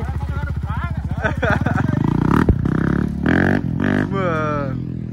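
A motorcycle engine running and revving up close as it is ridden, pulsing throttle bursts and a brief clatter, with a person talking loudly over it.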